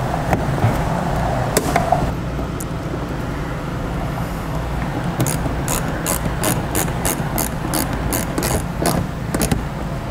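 A 5.5mm screw is driven into a Ford fender liner, with a run of quick, evenly spaced ratchet clicks starting partway through over steady road and traffic noise.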